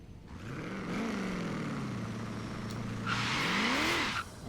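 Rear tires of a semi-built quarter-mile drag car spin at launch, a loud sustained engine roar rising and falling with a high tire squeal swelling near the end, close and alone.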